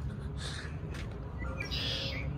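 Birds calling outdoors, faint chirps and short calls over a steady low background hum, no voices during the calls.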